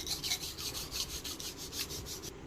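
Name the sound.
scraping casting sand level in a mold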